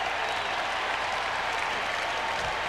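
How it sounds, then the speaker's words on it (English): Baseball crowd at Fenway Park during a Minnesota Twins at Boston Red Sox game, with a steady broad wash of stirring and applause that holds at an even, moderately loud level throughout. "Crowd stirring a little bit."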